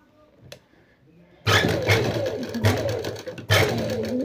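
Sewing machine stitching a round collar neck on an anarkali frock, a close mechanical whirring run that starts abruptly, holds steady with small surges, and fills the second half after a quiet lead-in.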